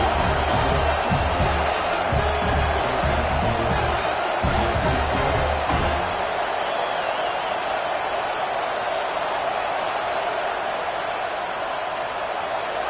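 A football stadium crowd roars and cheers after an opening kickoff is returned for a touchdown, loud and sustained, with rhythmic chanting or clapping in the first half before settling into a broad, steady crowd roar.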